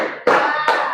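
Students in a classroom clapping their hands in unison, several loud flat claps spaced about half a second apart, close and clear with no talk over them.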